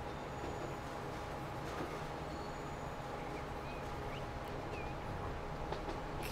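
An S-Bahn commuter train rolls along in the Transport Fever video game, giving a steady rail rumble with faint wheel squeals and no talking.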